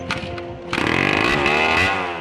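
A petrol motorbike engine revs hard: a brief burble, then a sharp climb into a loud, buzzing, sustained rev that wavers in pitch, heard alone and close.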